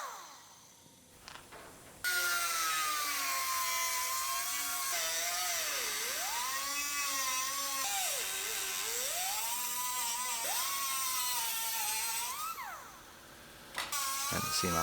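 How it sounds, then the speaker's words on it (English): Die grinder cutting through GMC truck body metal, a loud, close, high-pitched whine that rises and sags in pitch as the cut loads the tool, sustained for about ten seconds before spinning down. "We'll just cut them off with a die grinder."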